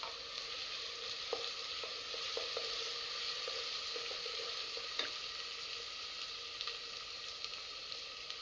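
Slit green chillies fry in a pan, giving a soft, steady sizzle at moderate distance with a few faint ticks and light stirring clicks scattered through it.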